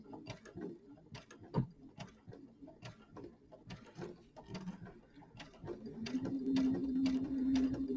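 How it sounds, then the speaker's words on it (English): Home sewing machine stitching binding onto a quilt edge with a quarter-inch seam allowance, rapid ticking needle strokes building into a steady mechanical whir, close and fairly quiet. "my machine's set to do a back stitch."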